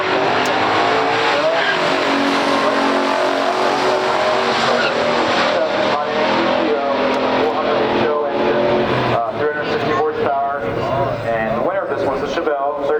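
A 1967 Pontiac GTO and a 1969 Chevrolet Chevelle drag race in a stock drag race, loud V8 engines roaring and revving with tyre squeal, while a voice talks throughout over the engine noise.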